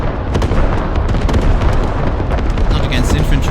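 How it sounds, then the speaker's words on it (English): Heavy artillery explosions in the video game Squad during a competitive scrim, a dense continuous barrage of booms and rumbling blasts, loud and close. "Beautiful artillery."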